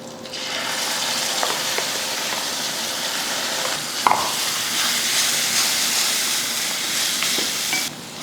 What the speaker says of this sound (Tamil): தேங்காய் போட்டு ஒரு முப்பது செகண்டுக்கு இது போல் நல்லா வதக்கிக்கோங்க